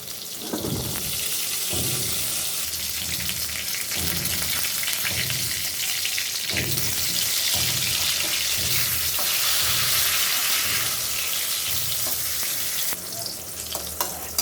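Eggplant slices fry in hot oil with a continuous close sizzle, broken by regular rhythmic bursts of stirring or turning roughly every second, with no talking.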